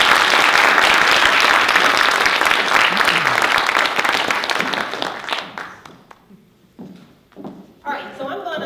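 An audience at a Prairie State College faculty showcase gives a speaker a loud round of applause, which then thins into scattered claps and fades out over the last few seconds.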